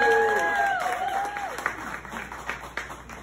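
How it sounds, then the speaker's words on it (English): An audience breaks into applause, dense clapping that starts loud and gradually thins out over a few seconds, with a brief voice at the start. "Yeah, clap."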